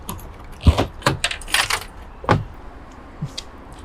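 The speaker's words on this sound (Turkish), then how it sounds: "Eğer taktınız dönmüyorsa anahtarı çeviriyorsunuz" A key turns in the lock of the gas compartment on a Başkent Karavan Ares 310 towed caravan, giving a handful of sharp metallic clicks and rattles spread across a few seconds, close and fairly loud.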